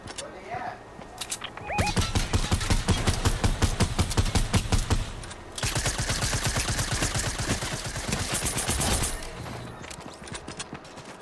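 Rapid automatic gunfire in a Fortnite Battle Royale squad match, long rattling bursts of closely spaced shots separated by short pauses, loud and near, with players talking over it.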